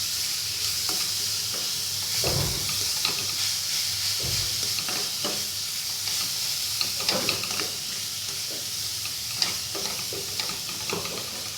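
Cabbage and grated coconut sizzle steadily in a hot pan for a Kerala cabbage thoran, with a spoon scraping and stirring through it now and then, loud and close.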